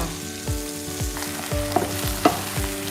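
Winged beans stir-fry over high heat in a hot pan, a loud, close sizzle with rhythmic scraping strokes of the spatula about every half second.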